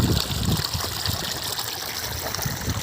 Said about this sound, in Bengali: এই জল চলছে, অল্প জল উঠছে, খুব বেশি পরিমাণে নয়।